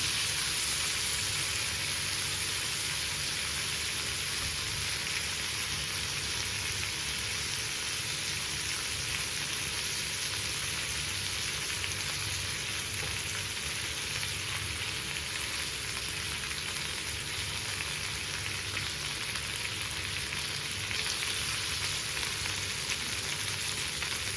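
Fish coated in masala fries in hot oil in a pan with small and large onions, giving a steady, loud, close sizzle with crackling spatter that continues unbroken for over twenty seconds, with no voices.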